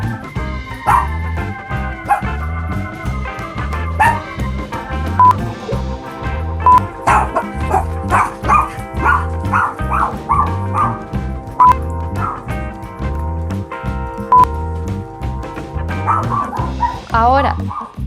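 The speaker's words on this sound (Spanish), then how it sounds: "Si se preguntaban quién es el que se escucha ladrando" A small dog barks and yips repeatedly in quick, uneven bursts close by, with whimpering between the barks, while a person keeps talking over it.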